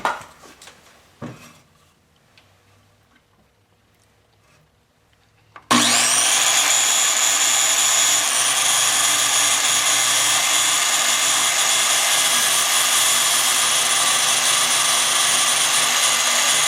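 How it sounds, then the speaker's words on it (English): Circular saw starts up and runs steadily while cutting wood for a shed ramp, a loud continuous high whine that holds unbroken after a few quiet seconds of faint clunks and handling noise. "we're going to try starting with the circular saw this time"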